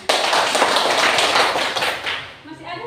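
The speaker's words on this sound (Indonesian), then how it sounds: "Mari kita berikan tepuk tangan." Classroom of students clapping together in a dense burst of applause that starts abruptly, holds steady, then thins out and fades as a voice begins speaking.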